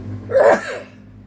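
A single quick sneeze, close and sharp, bursts out over a low background hum.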